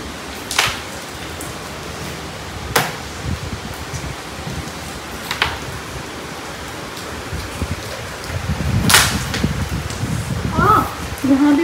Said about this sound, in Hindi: सच में बारिश बहुत ज़्यादा तेज है।